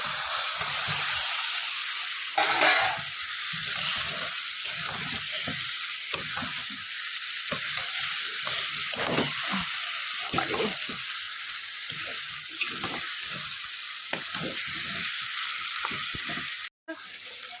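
Chicken curry sizzling and frying in hot oil in a home kitchen, a continuous bright hiss with stirring scrapes throughout, a voice speaking faintly underneath, cutting off abruptly near the end.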